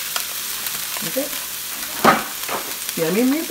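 Onion sizzles and crackles in a hot pan for Chinese-style fried rice, with brief stirring scrapes; someone speaks briefly over the frying.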